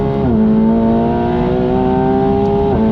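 McLaren 750S accelerating hard out of a corner on track, a loud close engine note climbing steadily in pitch, dipping briefly at a gear change, then rising again at the end.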